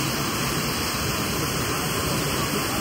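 Kempty Falls waterfall in Mussoorie, seen from the front bridge, roars as a steady, loud, unbroken rush of falling water, a dense broadband wash with no voices over it.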